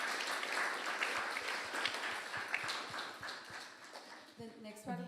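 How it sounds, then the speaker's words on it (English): Applause rises from an audience at a devotional program after a class, steady clapping at a moderate distance that swells and carries on for several seconds. "Let's have another round of applause for that absolutely wonderful class."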